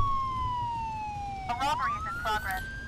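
A police car siren in the video game Enforcer: Police Crime Action wails with a smooth tone that slides down, then sweeps back up, loud and close, with a brief burst of other sound midway.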